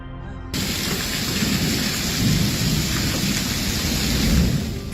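Heavy rain pours down during a supercell thunderstorm in southern Wisconsin, a loud continuous downpour with rolling thunder rumbling underneath and swelling toward the end.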